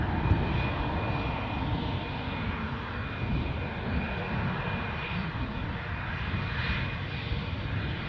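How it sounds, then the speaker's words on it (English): British Airways airliner lining up on the runway at Newcastle airport, a continuous broadband jet engine roar with a steady high whine, heard from a distance at a moderate, even level. "British Airways are literally coming out to line up"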